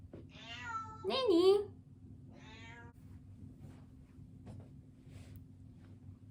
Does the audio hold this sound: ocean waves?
no